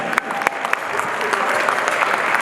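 A gala audience at a heritage association event applauds students, a loud, dense burst of clapping with a few sharp nearby claps standing out, sustained throughout.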